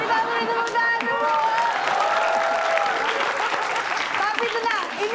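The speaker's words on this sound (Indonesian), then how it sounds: "Oke, kita beri tepuk tangan dulu." A studio audience breaks into sustained, dense applause that holds at full strength throughout, loud and close, with cheering and a voice faintly mixed in.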